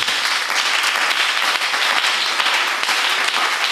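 A church congregation applauds and cheers for the Lord, a dense, steady wash of many hands clapping filling the room, loud and continuous throughout with no pauses.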